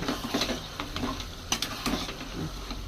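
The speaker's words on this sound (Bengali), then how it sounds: "সিদ্ধ করা বাঁধাকপি এবার ঢেলে দেবো, সঙ্গে মাছগুলান দেবো, দিয়ে ভালো করে নেড়ে নেব।" Boiled cabbage and fish being stirred together in a pan, with soft scraping and light sizzling plus a few sharp utensil clicks, close and fairly quiet, no talking.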